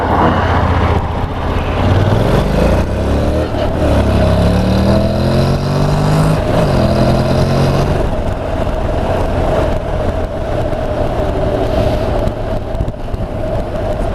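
A Honda NC750X DCT motorcycle engine revs up through rising pitch sweeps, dropping briefly at gear changes as it accelerates and upshifts, loud and close with steady road and wind roar and no talking.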